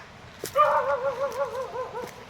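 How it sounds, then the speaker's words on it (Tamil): A neighbour's dog lets out a single drawn-out, wavering whining bark at close range, lasting under two seconds over a quiet background. "ஒரு பக்கத்து நாய் வேறு லைட்டாக கற்றுதா பக்குன்னு ஆயிடுச்சு"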